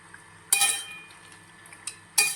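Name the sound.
stirring tomatoes into mutton curry in a pan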